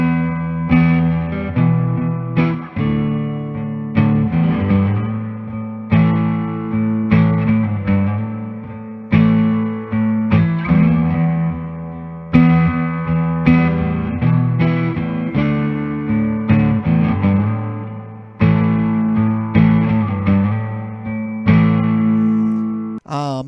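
A 1967 Framus Golden Television hollow-body electric guitar plays strummed chords and picked notes in repeating phrases, each one ringing out and decaying, close and clear, with no reverb.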